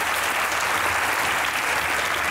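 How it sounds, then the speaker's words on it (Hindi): Studio audience applause on a comedy talk show, a dense, even roar of clapping filling the whole stretch, loud and steady with no voices. "तालियां होनी चाहिए।"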